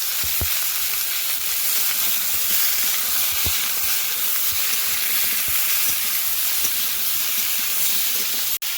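Banana and potato pieces poured onto frying onion and garlic in a pan, a loud continuous sizzle and hiss with occasional stirring clicks, steady throughout and ending abruptly.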